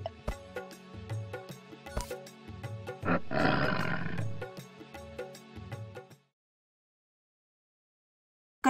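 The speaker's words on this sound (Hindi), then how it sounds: "बाघ" A tiger gives one loud, drawn-out roar that swells and then fades, following a stretch of plucked musical notes, before the sound cuts to silence.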